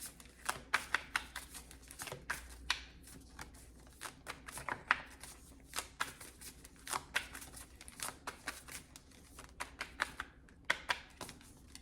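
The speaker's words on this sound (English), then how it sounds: "Let me look at how I'm shuffling." Cards being shuffled over and over, crisp rapid riffling clicks in repeated bursts, close by with no talking.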